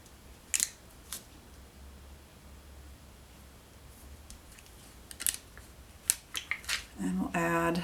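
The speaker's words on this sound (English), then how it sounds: "So you just cut down the middle." Scissors snip through colored paper from a Paper Pumpkin craft kit, cutting pieces in half: a few sharp, close cuts spaced apart, then a quicker run of snips near the end over a quiet background.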